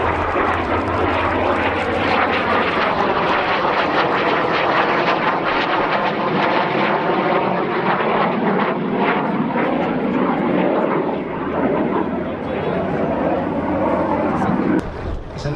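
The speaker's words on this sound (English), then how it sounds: "It's an enviable jet dogfighter." A North American F-86 Sabre Mk.6 swept-wing jet fighter in a flying display at the Old Buckenham Airshow 2025, its engine giving a loud, sustained roar that holds steady throughout before tailing off slightly at the end.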